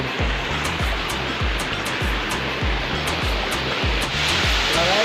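A steady, heavy roar of rushing water pounding down, loud and continuous, with a rhythmic low thumping pulse running beneath it.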